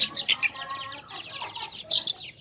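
Several Indian Aseel chickens cluck and chirp close by in quick, overlapping bursts, some high-pitched peeps among them, with no talking.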